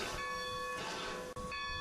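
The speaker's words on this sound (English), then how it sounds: "Nevada Northern Railway steam locomotive number 40 backs down onto its excursion train to get ready for the first run of the day" Nevada Northern Railway steam locomotive number 40 backing down onto its excursion train, giving a steady mechanical rumble with a sustained whistle-like tone that drops out briefly near the end.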